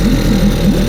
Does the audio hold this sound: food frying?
no